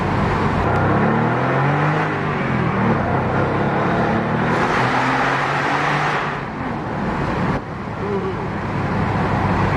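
An air-cooled Porsche 993 Targa flat-six engine revving while driving, a loud, close engine drone rising and falling in pitch with road noise, with a brief dip in volume near the end.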